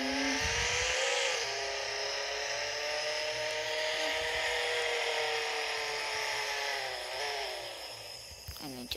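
A car in the Roblox Jailbreak video game drifts with a sustained, revving engine whine, the pitch rising and bending as it slides, steady and loud, ending with a brief clatter over soft background music.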